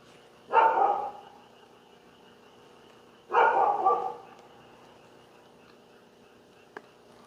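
A stray dog gives two separate barks several seconds apart, fairly close and distinct against a quiet background, followed by a brief faint knock.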